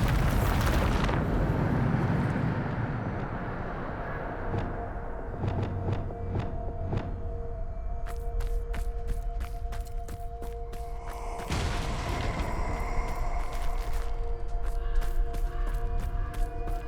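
A Bombarda explosion spell in the video game Hogwarts Legacy bursts with a loud rumbling blast at the start, then a series of sharp crackling impacts and another roaring surge midway, over a sustained ringing tone.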